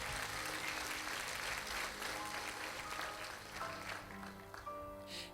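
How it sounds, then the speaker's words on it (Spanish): Congregation applauding during a church service, sustained dense clapping from a full room that gradually thins out toward the end. "Bendígalo con su ofrenda de palmas"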